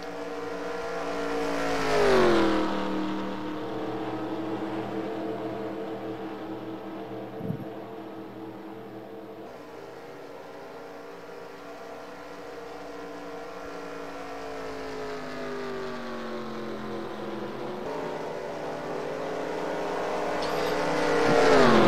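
Race cars in an eNASCAR video game, a loud sustained engine drone that rises and falls in pitch as cars pass near, with a brief click midway and the roar swelling again at the end.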